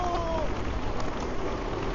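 Steady rain falls outdoors in Myanmar where children play in the downpour, a dense, even hiss that runs throughout at moderate loudness.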